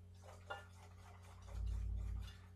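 Egg and margarine cake batter is beaten by hand with a utensil in a bowl, giving soft, faint, repeated scraping strokes in a quiet kitchen.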